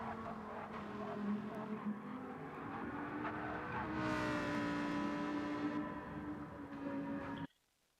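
Race cars lapping a circuit in a racing video game: a continuous engine drone with shifting pitch as cars go round, moderately quiet, cutting off abruptly near the end.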